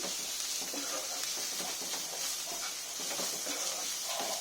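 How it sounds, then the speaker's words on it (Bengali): Chili powder being stirred into a frying mash of fish, ridge gourd and pointed gourd makes a dense, continuous sizzle. Scraping stir strokes run through it, close and fairly loud. "একটু গুঁড়ো লঙ্কা দিলাম। একটু ভালো করে নেড়ে নেব।"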